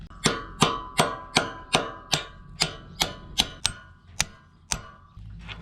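A broken bolt on hay equipment being driven out with a hammer, about a dozen sharp ringing metal strikes at an even, steady pace, close and clear, each followed by a brief metallic ring.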